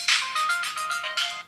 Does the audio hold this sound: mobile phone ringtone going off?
yes